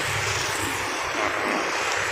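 The engine of an ALS 203 intercity bus runs in a steady, loud drone, with dense broadband hiss over a low rumble and no talking.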